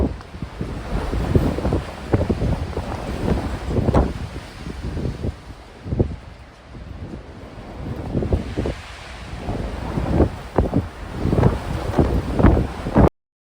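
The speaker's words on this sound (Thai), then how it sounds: "ท่านได้ฟังเมื่อกี้นี่คือ ฝนกับลมนะคะทุกท่านคะฝนกับลม" Strong wind with rain in Iceland, gusting hard against the microphone in loud, uneven surges and rumbling buffets that rise and fall throughout, with a steady rushing wash beneath and no voices.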